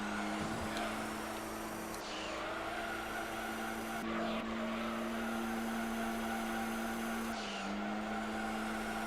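A Honda RSX racing in Gran Turismo 3 lets out a steady, high-revving engine drone with tonal whine and short shifts or tire squeals every few seconds, loud and continuous, with no speech.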